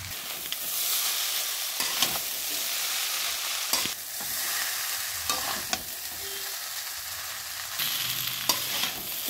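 Chow mein with vegetables, chicken, eggs and Maggi seasoning frying in a pan, a steady close sizzle with repeated sharp scrapes and knocks of the spatula stirring at irregular intervals.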